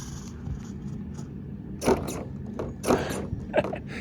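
A Redcat SixtyFour Impala RC lowrider hops and drives, its small motor whirring under sharp mechanical clacks and scrapes as the hydraulics pop, three distinct bursts close by.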